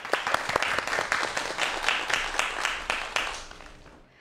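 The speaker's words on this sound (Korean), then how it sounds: "여러분 박수 부탁드리겠습니다" An audience at a lecture on aging and exercise applauds a speaker coming on stage, a warm round of clapping with distinct strong claps that gradually fades out.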